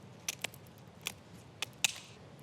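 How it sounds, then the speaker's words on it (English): Kitchen scissors snipping through a Frenched rabbit rack to split it in half, five or six sharp, close metallic snips at irregular intervals with no talking over them. "To split that in half, we grab some scissors and just remove them"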